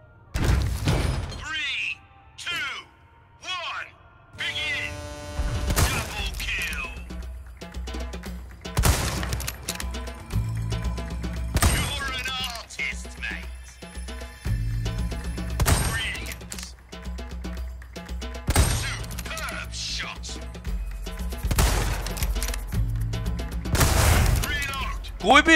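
Gunfire from a different gun in the shooter Resident Evil 4 Remake, sharp separate shots and cracks recurring every few seconds over game sounds, with a player talking between them.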